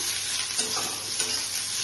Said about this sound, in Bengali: সুন্দর ভাজা হয়ে যাচ্ছে